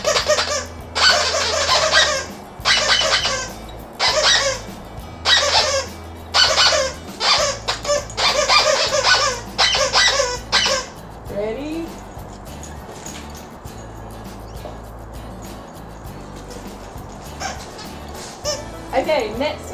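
Squeaky koala-shaped dog toy squeezed in a quick series of bright, repeated squeaks during the first half, then fading into quieter handling noise and faint background sounds.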